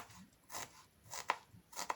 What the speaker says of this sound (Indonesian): Ini bawang bombaynya juga semuanya kita iris-iris.